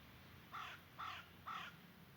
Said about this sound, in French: On a un petit corbeau qui nous dit bonjour.